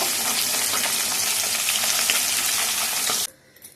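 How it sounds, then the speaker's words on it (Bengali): Small fish fry in a pan with a loud, steady, crackling sizzle that holds for about three seconds and then cuts off abruptly, leaving near silence. "প্রথমে মাছ ভেজে নিচ্ছি।"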